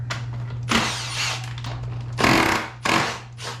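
Tools work on a stubborn bolt on a 2022 Yamaha YZ125 motorcycle during engine removal, giving a few irregular mechanical bursts and ratchet-like clatter over a steady low hum, close up with no talking.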